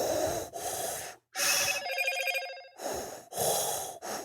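A phone notification tone chimes once, a short bright melodic ring clearly heard between bursts of louder, breathy, heavy-breathing sound.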